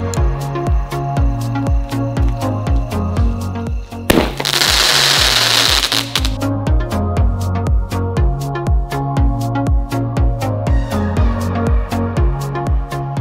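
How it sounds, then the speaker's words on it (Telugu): A Divine firecracker from Sivakasi bursts at a Diwali cracker test, giving one loud, hissing, crackling burst of about two seconds midway through, set against steady, rhythmic background music. "నెక్స్ట్ మనం కాలవబోతున్న క్రాకర్ వచ్చేసి గాయస్ ఏంటిది అంటే ఈ డివైన్ క్రాకర్"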